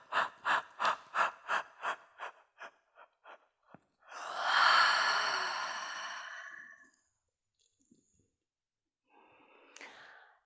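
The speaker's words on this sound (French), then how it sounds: "Bâiller." A long, breathy yawn during a yoga session, preceded by a run of rhythmic short breaths, then a quiet pause and a final soft exhale, close and intimate.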